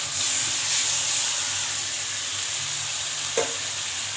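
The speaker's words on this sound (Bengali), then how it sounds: "দিয়ে ভালো করে নাড়াচাড়া করছি।" Ginger-garlic paste, cumin paste and tomato paste sizzle with fried onions in a pan, a continuous hiss with one short spatula scrape near the end.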